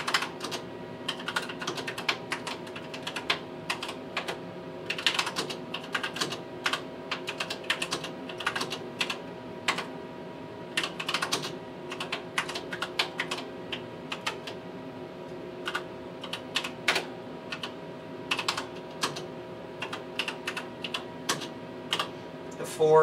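Steady clicking keystrokes on a Tektronix 4051 computer keyboard while a program is entered, an uneven, continuous run of close taps with short pauses between bursts.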